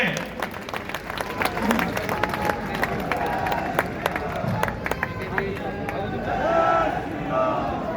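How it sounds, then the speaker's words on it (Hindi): A large crowd at a public gathering claps loudly in dense, continuous applause mixed with cheering and crowd chatter, with a few sharp individual claps standing out close by. "जोरदार तालियों से स्वागत एवं अभिनंदन करें"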